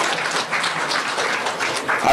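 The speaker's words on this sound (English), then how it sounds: "Let's give him a round of applause." Audience applause at an essay-writing competition ceremony in Trinidad: dense, steady clapping from a crowd that fills the whole stretch at a fairly loud, even level.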